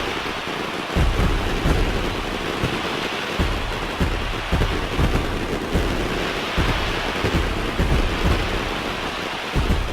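Rain and thunder in the baseball video game MLB The Show 19, steady loud rainfall with repeated low rumbling thunder pulses throughout and no talking.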